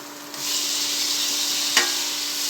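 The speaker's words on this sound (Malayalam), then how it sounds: "ഒന്ന് ഇളക്കി കൊടുക്കുക. ഇതിൻ്റെ പച്ചമണം മാറട്ടെ." Chopped tomatoes frying in a pan in an outdoor village kitchen, a steady soft sizzle with a brief scrape of stirring midway, fairly quiet and close.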